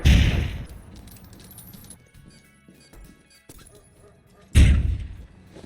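In a Counter-Strike style match, two loud, sharp blasts open and close the stretch, like gunfire or grenades going off, with faint clicks, thuds and scattered game noises in the quieter middle.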